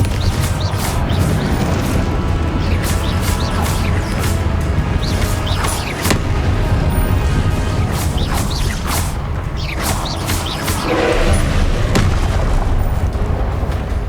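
Confringo blasting curses in the Hogwarts Legacy video game burst repeatedly in a dense, loud barrage of booms and crashes, layered over constant rumbling game effects with no pauses across the stretch.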